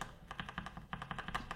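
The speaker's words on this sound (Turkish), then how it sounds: "Kırmızı switch mavi switch gibi aşağı indi mi tık sesini yapmıyor." A mechanical keyboard with linear red switches is typed on in a quick, steady run of close, crisp keystrokes with short pauses between bursts and no voices.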